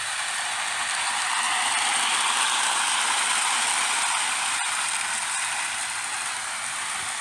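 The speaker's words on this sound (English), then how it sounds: "Finally got to see my passenger train run around in circles." A steady high-pitched clicking whir of a small model train running continuously on its track, close by, with one brief sharp tick partway through.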